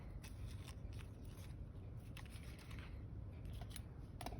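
Scissors snip to trim the ends of a string on a paper clip craft, with several quiet close cuts over a soft background and no one talking.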